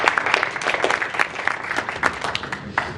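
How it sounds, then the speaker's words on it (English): A crowd at a sustainability conference applauds its speakers with a close, busy patter of many hands clapping at a fairly even level from start to finish. "How about a round of applause for our speakers here today?"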